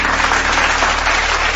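Round of applause for the parents of junior college students at a school tribute event, a continuous wash of clapping with a low steady hum beneath it, loud and close.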